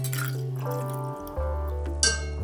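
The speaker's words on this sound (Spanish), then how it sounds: "Añadimos el agua" Water is poured into a jar of salt, oil and vinegar brine for pickled onions, giving a close liquid pour with ringing glassy tones and a small clink near the end.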